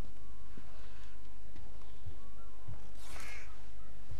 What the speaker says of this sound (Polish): ptaki reagują na nagły ruch, alarmując wszystkich wokół